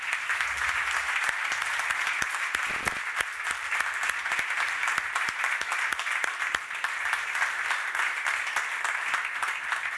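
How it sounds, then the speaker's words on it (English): An audience at a presentation for a Lanzarote restaurant applauds steadily, a sustained, even wash of many hands clapping without letup and no speech over it. "that really did deserve a round of applause"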